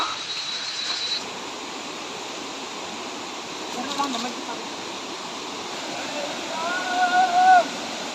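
Steady broadband rush of a tall main waterfall, water plunging from a great height, filling the whole clip as a constant roar with a brief faint voice-like sound near the end.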